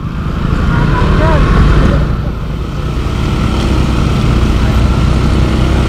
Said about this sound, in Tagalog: Pon, paliparin mo yung motor mo ha.